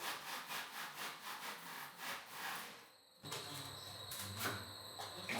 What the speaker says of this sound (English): it's so much quicker and easier to saw off a little bit more